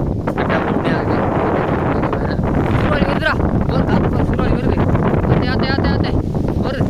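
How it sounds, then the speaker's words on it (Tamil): Strong wind buffets the microphone continuously and loudly outdoors near goats, with a person talking over the roar. "நல்லா காற்று அடிக்குது"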